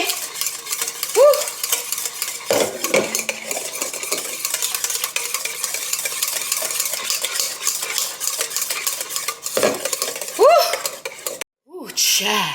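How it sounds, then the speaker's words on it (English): Cheesecake salad mixture being whisked in a bowl until it stiffens: rapid, continuous scraping and clinking of the whisk close by, with a couple of brief vocal exclamations breaking in. "Keep whisking, keep whisking."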